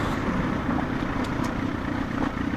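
A 2005 Suzuki GSX-R 1000 motorcycle pulling away on a road, its engine a steady loud drone with road and wind noise, no talking.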